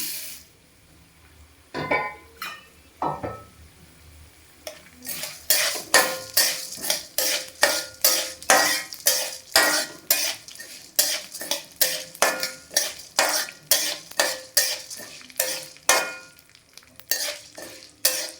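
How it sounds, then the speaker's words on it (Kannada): Urad dal roasting in a pan for moringa chutney powder, stirred with a spoon that scrapes and clinks in a fast, regular rhythm of sharp strokes over a faint sizzle, close up and without talk. "ಉದ್ದಿನ ಬೇಳೆ ಹಾಕ್ತಾ ಇದ್ದೀನಿ"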